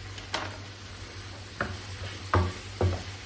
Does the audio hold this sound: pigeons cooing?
no